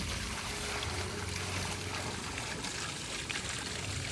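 Water poured out of a container onto the ground of an outdoor vacant lot, a steady trickling splash over a faint broadband background, no talk during it.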